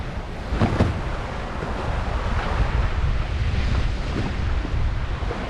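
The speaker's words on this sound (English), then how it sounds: "You just hear the water running off the back." Water rushes and churns off the stern of a sailing boat under way with main and jib set, a continuous loud wash mixed with wind buffeting the microphone.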